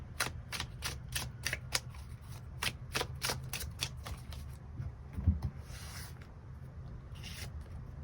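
A tarot deck is shuffled and cards are drawn, making a quick run of crisp, riffling card flicks followed by softer slides and scrapes, close and alone without talking.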